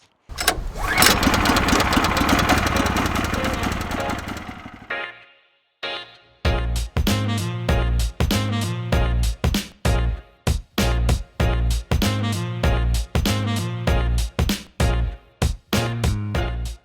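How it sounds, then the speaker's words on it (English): A portable sawmill's small engine, an HM126, sputters and roars steadily, cuts out briefly, then runs again with a choppy, pulsing rhythm of repeated loud bursts close by. "we're gonna mill up some wood on the HM126"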